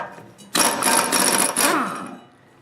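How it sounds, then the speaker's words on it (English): An impact wrench spins off the 3/4 inch nut holding the auger pulley on a snowblower gearbox, one sustained buzzing, hammering burst of about a second and a half, loud and close, with no talk. "an impact wrench works really good for that"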